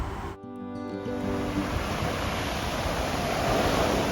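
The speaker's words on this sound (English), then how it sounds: "If you look around, you see the beach. Really a nice sandy beach." Surf washes onto a coarse sandy beach at Ao Manao, Thailand, a steady rushing roar of waves growing slightly louder, with some wind noise and no voices.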